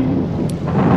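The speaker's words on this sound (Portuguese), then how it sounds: "esse é trovoada, é relâmpago, velho" Thunder rumbles with steady rain during a stormy level of the video game Nightmare Creatures 2, a deep continuous roll building slightly louder toward the end.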